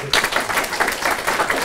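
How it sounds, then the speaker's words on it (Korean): An audience applauds a professor's wife as she stands at a book launch event, a dense burst of clapping from a crowd indoors, steady and lively throughout. "박수로"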